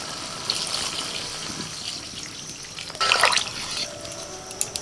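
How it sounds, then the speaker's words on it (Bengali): Water is poured into mustard-paste curry in a pan for a vegetarian meal, heard as a short splashing gush near the end over a steady low kitchen hiss. "এবার আমি জল দিয়ে দিচ্ছি"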